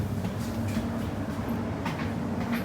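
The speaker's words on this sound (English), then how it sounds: "I love this train. I actually love this train." Interior of a South Western Railway Class 701 electric train in motion, a steady low rumble and hum of the carriage with faint rail clatter, continuous and even.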